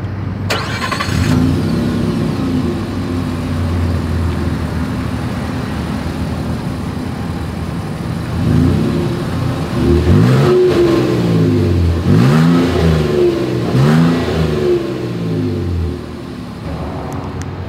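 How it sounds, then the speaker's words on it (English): The exhaust of a 2022 Nissan Frontier SV idles with a steady rumble, then is revved several times in a row, each rev swelling loudly and falling back to idle, heard up close. "As always, here is that exhaust clip."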